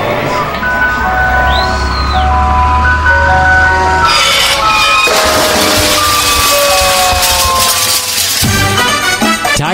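A tinkling ice cream truck jingle plays loudly, its melody repeating over engine hum and street noise.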